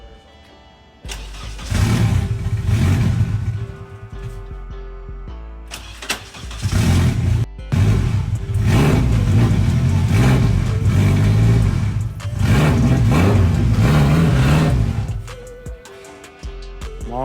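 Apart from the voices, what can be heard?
turbocharged Honda Civic K20 engine running and revving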